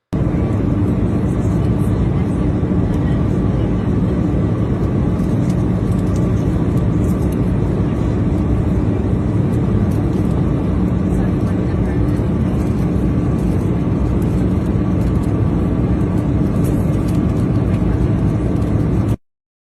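Steady, loud airplane cabin drone during flight over Kansas, a continuous broadband engine and air roar holding unchanged for the whole stretch with no voices.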